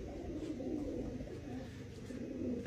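Soft, low pigeon cooing repeats steadily through the clip, close by, with a faint rustle of other birds behind it.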